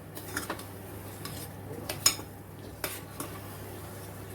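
Mango sheera cooked with ghee and Alphonso mango pulp is stirred in a pan, with soft scraping and a few sharp clinks of a spoon against the metal over a low background hum.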